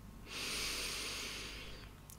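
A slow, steady inhale drawn in through the nose during a calming relaxation breathing exercise, a soft airy hiss that swells and holds for nearly two seconds, close and quiet with no talking.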